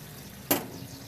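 A splash of water is poured into chicken cooking in a pan, giving one brief burst of sizzling hiss that fades quickly against a quiet background.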